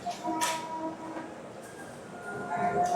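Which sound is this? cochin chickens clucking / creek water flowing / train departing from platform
train departing from platform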